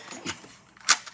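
A single gunshot during a boss battle in a video game: a short, sharp crack that stands out near the end, fairly quiet, preceded by a fainter click.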